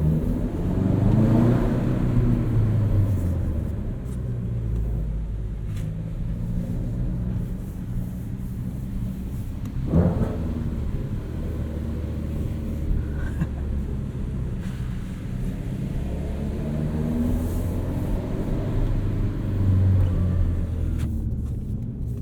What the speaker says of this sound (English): Listen to this exhaust though in this parking structure.